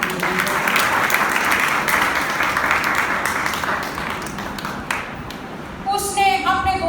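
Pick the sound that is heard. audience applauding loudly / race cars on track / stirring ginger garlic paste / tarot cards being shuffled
audience applauding loudly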